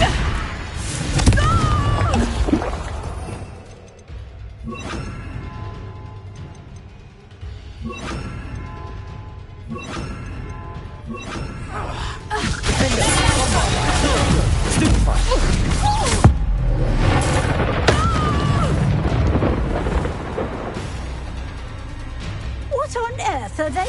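Blasting spell explosions in the Hogwarts Legacy video game, repeated crashing bursts and thuds amid combat whooshes, with characters speaking and shouting over the action throughout.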